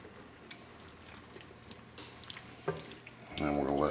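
Steak and garlic stir fry sizzles softly in a pan as it is tossed, light scraping and clatter over a low frying hiss, then a louder burst near the end as someone begins speaking.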